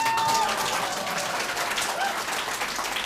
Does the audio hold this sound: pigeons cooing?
no